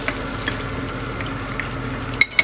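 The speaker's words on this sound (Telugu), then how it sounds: "ఫ్రై చేసుకుని దాంట్లో ఆనియన్స్ వేసుకోవాలి" Onions sizzle steadily in a pan, a soft continuous frying hiss with faint pops and a couple of light clinks near the end, heard alone without talk.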